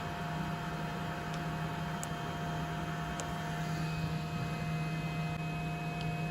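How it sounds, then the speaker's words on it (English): A Morus Zero clothes dryer runs with a steady, low mechanical hum and a constant whir throughout, quiet and even, with no voices and only faint occasional ticks. "You guys can probably hear how quiet this dryer runs"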